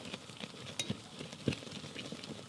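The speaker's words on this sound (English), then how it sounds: "So just sit here and stir this until it's nice and melted and together" A spoon stirs melting marshmallows and butter in a pot on a stovetop, giving soft, faint sticky scraping with a light sizzle and scattered small clinks, close by with no talking.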